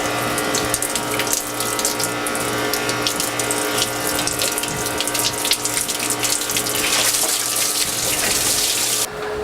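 Residual water runs steadily from a flushing hose on a CAT C18 marine engine down into the bilge, a continuous close trickle and splash with faint mechanical ticking, no voices.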